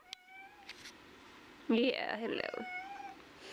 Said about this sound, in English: You can't see the kitty because it's dark, but you can definitely hear her.